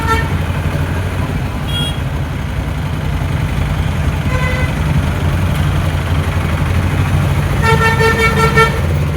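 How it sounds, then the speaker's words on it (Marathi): Dense traffic jam in Shegaon with car horns tooting repeatedly over a steady idling engine rumble, short honks early on and a longer burst of several overlapping horns near the end. "पुरे ट्रॅफिक जाम झालेली आहे."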